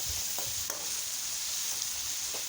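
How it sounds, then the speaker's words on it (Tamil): Chopped onions and tomatoes sauté in hot oil for a cauliflower pepper masala, with a steady close sizzle and a few soft stirring scrapes spread across it. "நல்லா இந்த எண்ணெயில் நம்ம போட்ட வெங்காயம் தக்காளி எல்லாம் வதங்கணும்."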